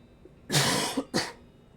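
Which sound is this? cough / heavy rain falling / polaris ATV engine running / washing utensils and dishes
cough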